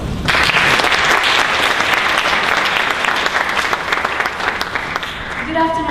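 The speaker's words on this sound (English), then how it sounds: "Let's give them a round of applause." An audience at a formal National Library Board event claps loudly and continuously, the dense applause thinning near the end as a voice begins to speak.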